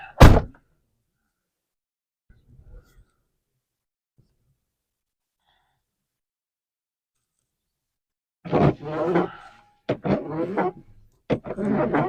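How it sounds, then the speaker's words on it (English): A car door is shut firmly with a single loud thunk at the start, during a cold winter outing, followed by silence and a faint bump, then a person talks later on. "I guess I didn't close the door all the way."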